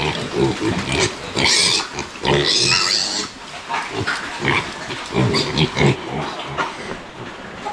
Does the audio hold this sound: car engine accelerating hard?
no